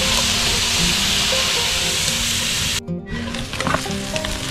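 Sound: food sizzling as it cooks in a Dutch oven

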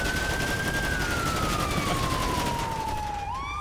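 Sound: police car siren in a video game

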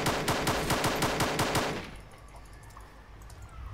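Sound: gunfire in video game Arma 2 DayZ

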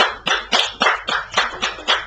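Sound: church congregation clapping in thanks

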